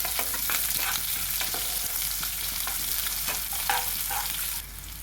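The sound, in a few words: chopped onion frying in pan for fried chicken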